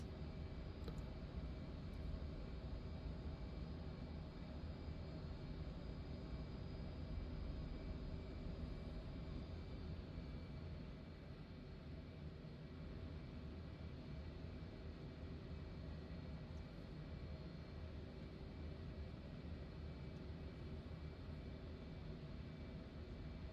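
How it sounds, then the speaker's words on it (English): Aircraft engines run steadily in a flight simulator, a continuous broad roar and hum with a faint high whine that holds constant throughout with no talk. "Engines are on."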